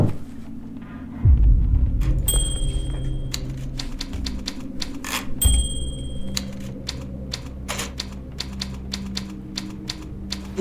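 Rapid bursts of typewriter keystrokes clatter in a horror video game, the clicks coming in uneven runs over a low throbbing hum, with a couple of heavier thuds near the start.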